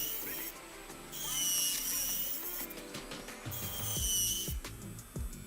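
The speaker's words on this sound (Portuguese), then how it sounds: "vou apenas inclinar um pouco a minha broca e desbastar a ponta" An electric nail drill files down the tip of a fingernail in two high, whirring bursts, close and fairly quiet, separated by softer handling clicks and taps.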